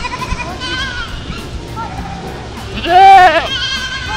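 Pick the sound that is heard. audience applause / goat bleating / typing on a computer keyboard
goat bleating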